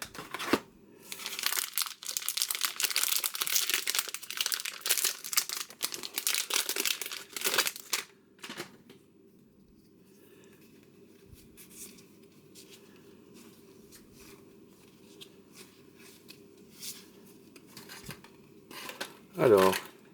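Foil packs of Panini Donruss Elite Serie A 2021/22 trading cards are torn and crinkled open in loud, close bursts for several seconds, then give way to quieter card handling under a voice.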